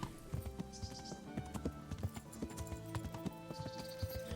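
Ridden horse hooves clip-clopping along a road in Kingdom Come: Deliverance, a quick, even, close gait with bright clacks over a busy background.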